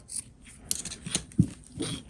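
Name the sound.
scissors cutting fabric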